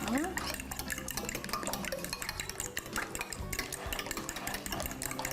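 Quiche filling being mixed in a bowl, with wet sloshing and stirring strokes in an irregular rhythm, close by, while a person talks over it.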